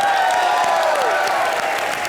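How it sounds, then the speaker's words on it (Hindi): A studio audience on a Hindi television comedy show applauds loudly and continuously in a brief burst, with music tones sustained over the crowd noise. "महाराज अशोका के लिए जोरदार तालियां हो जाएं।"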